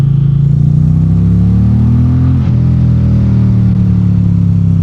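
A 2025 Indian PowerPlus Limited liquid-cooled motorcycle engine rumbles loudly up close, its tone rising steadily as it accelerates, briefly dipping at a gear change, then climbing again.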